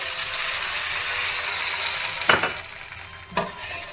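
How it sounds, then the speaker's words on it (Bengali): Fried onions sizzle steadily in a pan over a village cooking fire, with a little water added, giving a loud hiss and two sharp stirring scrapes near the end. "যাতে পুড়ে না যায় তার জন্য এখানে আমি দিয়ে দিচ্ছি অল্প পরিমাণে জল"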